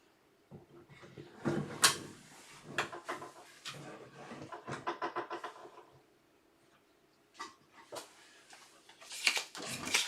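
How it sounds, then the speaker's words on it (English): A wooden drawer is slid into place in a handmade dovetailed bedside cabinet, giving close knocks, bumps and short scraping rubs in uneven bursts, with quiet pauses between them. "put the drawer in place."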